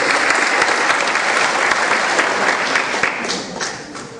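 An audience in a law diploma session gives guests a strong round of applause, dense steady clapping that holds for several seconds and then begins to thin and fade toward the end.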